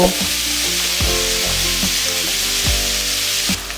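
Squash and a fish head stirred and frying in a pan over a high gas flame, with a steady loud sizzle and a spatula scraping the pan about once a second.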